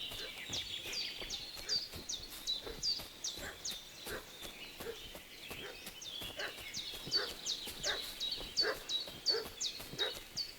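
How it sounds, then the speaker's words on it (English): Dog barking in the medieval video game Kingdom Come: Deliverance 2, a rapid run of steady, fairly faint barks repeating over about ten seconds against outdoor ambience. "What's that dog making such a fuss about?"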